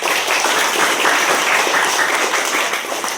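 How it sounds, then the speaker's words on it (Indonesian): Classroom applause for a presenting student group, a steady burst of clapping from a roomful of people, close and fairly loud, without talk. "Beri aplaus untuk kelompok satu."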